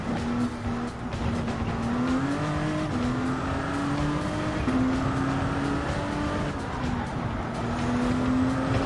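Audi Vision GT Group 1 race car engine in Gran Turismo 7, a loud continuous whine climbing and shifting in pitch through several gear changes, with no voices.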